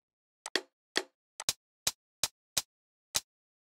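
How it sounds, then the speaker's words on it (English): Rim shot drum samples for Amapiano drums auditioned one after another in FL Studio: eight short, sharp clicky hits, some paired closely, each isolated in silence. "So I'm going to start with the rim shots. So this is how they sound."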